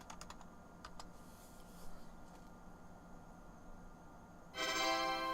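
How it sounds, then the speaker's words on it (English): Light clicking keystrokes on a Power Macintosh keyboard entering a command at a DOS prompt, a quick burst then sparse taps, close and fairly quiet, ending as a louder electronic tone starts, no talk. "Type win and press return."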